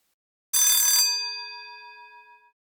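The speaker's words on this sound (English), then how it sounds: "The ringing of the school bell seemed to snap her out of it, if only for a moment" A school bell in The Sims 4 gives a single bright electronic ring that holds for about half a second, then a clear ringing tone decays slowly into silence.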